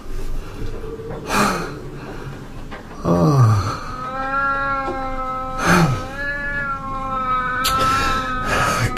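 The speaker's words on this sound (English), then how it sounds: "That damn cat of yours, get him out!" A cat meows and caterwauls in a drama set aboard the ship Demeter, with several drawn-out, wavering yowls close by and loud, mixed with gasps and strained vocal sounds.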